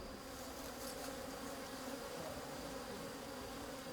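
Bees swarm around hives at a rural apiary fenced against bears, a dense steady hum of many insects droning at close range with no voices.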